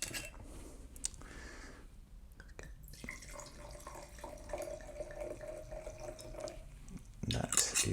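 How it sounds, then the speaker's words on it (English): Wine is poured into a tasting glass as a soft, close liquid trickle lasting a few seconds, with a faint glassy clink near the end. "So I'll pour my glass now."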